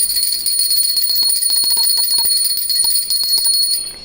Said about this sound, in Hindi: जैसे मैंने बजाई है घंटी